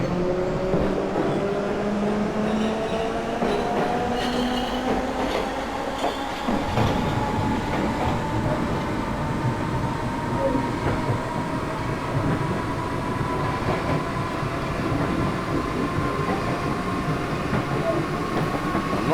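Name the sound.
Class 313 train accelerating from Silvertown, OpenBVE video game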